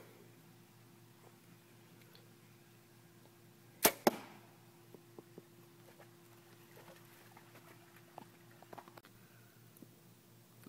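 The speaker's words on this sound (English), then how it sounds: "first we're going to just take a little practice shot with a Grimreaper practice head" An arrow tipped with a Grimreaper practice head is loosed at a target 20 yards away, giving one sharp close release snap followed quickly by a second crack, then faint scattered ticks in a quiet outdoor setting.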